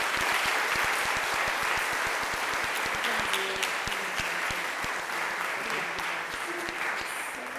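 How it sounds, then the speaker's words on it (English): An audience at a health summit for children and families in Newark applauds for Mayor Ras Baraka, a dense, sustained round of clapping that holds steady throughout. "please give a round of applause for the Honorable Mayor Ras Baraka"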